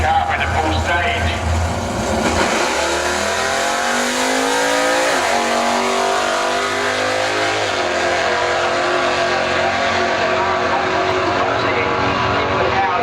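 A drag racing car launches down the quarter mile at a drag strip, its engine roaring up through the revs loud and close, then fading slightly as it pulls away, with a commentator talking over it.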